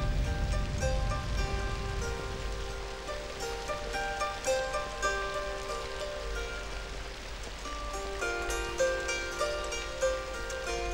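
Monsoon rain falls steadily on the Borneo rainforest, a dense continuous hiss of drops on leaves with a layer of sustained insect or bird tones running through it, loud and close throughout.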